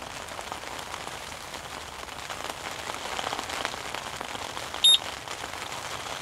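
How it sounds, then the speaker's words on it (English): Rain falling during carp fishing on a flooded peg, a steady fine hiss of drops pattering on a surface, with a brief high electronic beep near the end. "And it's raining too."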